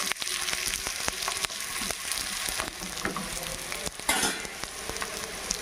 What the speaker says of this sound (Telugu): బాగా 2 పక్కల ఇది ఇలానే కాల్చుకుందామండి. మంచి కలర్ వచ్చిందాక.